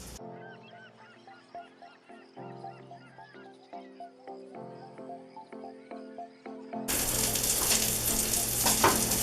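A Beyond Burger in a pan bursts into a loud, dense sizzle near the end, following several seconds of quieter tuneful, honk-like tones; the sizzle is close and continuous, with no speech.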